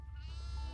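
A goat bleats while being burned in the horror video game Devour, a single loud, quavering cry close up, drawn out for most of a second.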